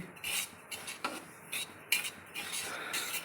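A utensil stirs and scrapes semolina (suji) roasting in a pan, producing soft metallic scraping strokes in an irregular rhythm, close and fairly quiet, with a faint sizzle underneath.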